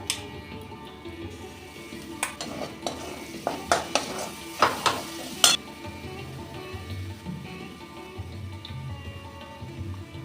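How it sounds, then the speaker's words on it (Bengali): Poppy seed paste frying in a pan with tomato and fried onion paste as it is stirred, giving a steady low sizzle broken by a run of sharp utensil scrapes and clinks against the pot. "আর একটু ভালো মতন কষে নেব"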